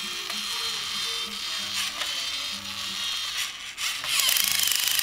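A screw being tightened with a tool, a steady mechanical whirring and grinding that runs continuously and ends in a louder clicking ratchet, while someone speaks softly in the background.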